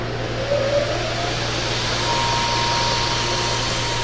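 An RPS 2x72 belt sander/grinder runs steadily at full speed, a loud continuous motor whine with belt roar and a constant low hum throughout, nobody talking.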